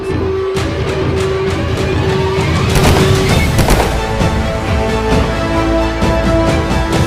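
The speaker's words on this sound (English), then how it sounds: "Just heard gunshots." Several sharp gunshots crack amid a loud, dense background of rumbling booms, sounding like heavy gunfire in a noisy battle scene.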